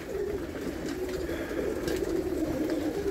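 Pigeons coo steadily and close by while pecking at scattered food, a low continuous murmur of overlapping calls with faint rustling, no talk.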